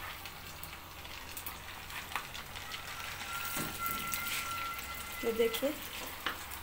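Chapli kebabs fry in hot oil with a steady, crackling sizzle that runs throughout, while someone talks over it.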